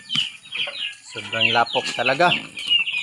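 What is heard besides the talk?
ducks quacking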